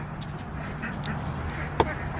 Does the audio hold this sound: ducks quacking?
yes